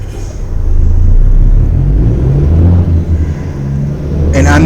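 Truck engine in American Truck Simulator, a Peterbilt 386, giving a loud deep rumble that swells and revs with a steady throaty drone, a voice talking faintly at the end.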